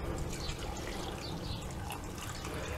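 Water pours into a cooking pan to boil carrots, a steady broadband rush that runs continuously at moderate level from start to finish, with no voices over it.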